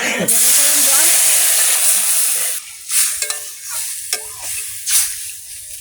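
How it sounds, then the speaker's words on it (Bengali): Hot water hits a sizzling pan of fish curry made with elephant foot yam, sending up a loud burst of hissing steam that slowly dies down into softer bubbling and faint clinks. "গরম জল দিয়ে দেবো"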